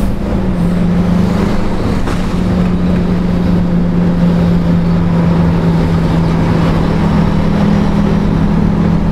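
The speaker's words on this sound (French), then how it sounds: "c'est l'occasion de découvrir cette petite balade en tracteur de camion, de semi-remorque" A semi-truck tractor engine drones steadily at a loud, constant pitch while driving, a low rumbling hum throughout with no talking.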